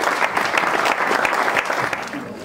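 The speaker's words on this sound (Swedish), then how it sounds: "En stor applåd till SISU." Brief burst of audience applause at an awards gala in Borås, dense clapping from a crowd that holds steady for a couple of seconds before starting to thin out.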